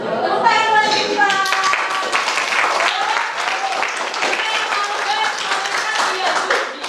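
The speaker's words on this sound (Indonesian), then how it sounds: "Tepuk tangan buat kita." A classroom of children claps together, a dense, steady wash of applause that fills the room and carries on evenly throughout, with a few faint children's voices mixed in.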